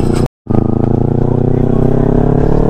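A Yamaha R15 motorcycle accelerates hard along a road, its engine loud and close with a rising, buzzing drone after a brief cut-out near the start.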